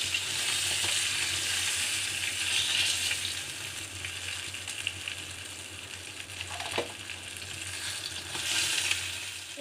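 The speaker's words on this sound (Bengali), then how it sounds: "এবার বাকি মাছগুলোকেও আমি ভাজতে দিয়ে দিচ্ছি।" Rohu fish pieces frying in oil give a steady, loud sizzle that runs the whole time, with a few faint knocks and stirring sounds and no talking.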